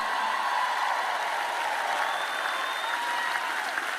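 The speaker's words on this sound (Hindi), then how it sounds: "और मैं रुकूंगी नहीं जब तक आप तालियां नहीं बजाते," An audience applauds continuously, a dense, even wash of clapping that holds steady throughout without voices standing out.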